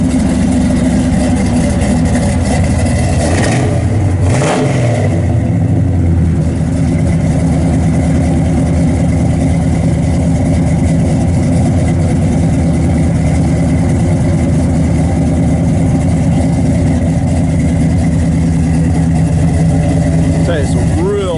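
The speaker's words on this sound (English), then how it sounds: "It sounds real good out the exhaust." A 1969 Chevrolet Chevelle SS 396, 375 hp, with a performance camshaft, idles through its exhaust with a steady, loud, low rumble throughout, a brief blip of revs near the start, and someone speaking over it.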